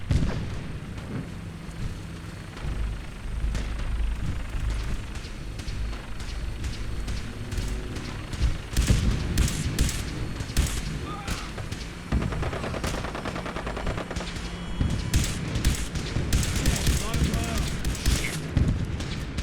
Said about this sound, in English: The mission's parameters just changed. We go in shooting.